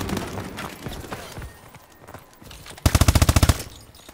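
Rapid automatic gunfire in a Call of Duty match bursts out loud and close near the end, a quick string of a dozen shots following quieter muffled game noise and footsteps.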